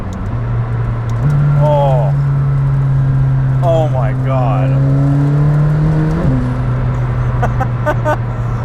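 A McLaren Senna's 4-litre engine pulls hard under acceleration, its loud, close drone stepping up in pitch through gear changes before easing, while a person exclaims over it.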